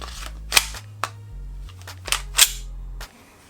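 An Umarex Glock 34 CO2 airsoft pistol fires several sharp, snappy pops at an uneven pace, close up and fairly quiet, with a faint low hum beneath.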